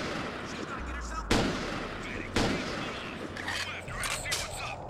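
Gunshots in a video game flashback scene: two sharp, loud shots about a second apart rising over a noisy in-game background.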